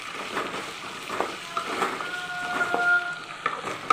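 Chopped brinjal sautéing in hot oil for bisi bele bath, a soft steady sizzle with faint stirring scrapes, close and moderately quiet, no talking.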